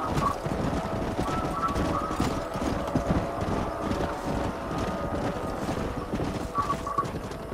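Horses gallop in Red Dead Redemption, a steady rush of hooves close by with an occasional whinny, set against a busy background of game ambience.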